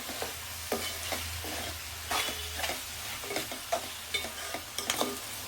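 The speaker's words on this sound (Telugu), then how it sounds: "అల్లం పేస్ట్ వేసినప్పుడు స్టవ్ సిమ్లో పెట్టేస్తాను ఎందుకంటే అడుగు అంటుంది కదా" Ginger paste fries in a pan on low heat while a spoon scrapes and stirs it, giving a soft ongoing sizzle broken by repeated close scraping clicks and taps, with no voices.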